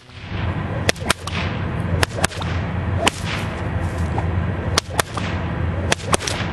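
A whip swung in a fast figure 8 cracks sharply about nine times in an uneven rhythm, the loud snaps close over a soft background rush, with no talk.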